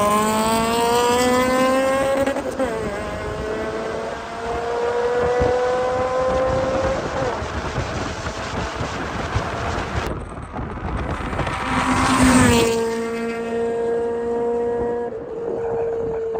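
A Honda car, built toward FD2 Type R spec, accelerates hard through the gears, its engine pitch climbing then dropping at each upshift, loud and close with wind rush and no talk.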